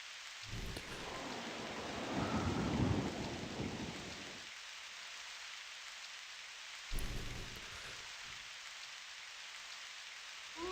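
Rain falls steadily in the video game Asheron's Call, a soft constant hiss, while two rumbles of thunder roll in, one long and swelling early on and a shorter crack later, all faint and distant.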